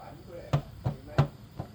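Four soft, separate knocks about a third of a second apart come from rocking a Honda Wave 125 motorcycle that has loose play, with a quiet, close-up sound.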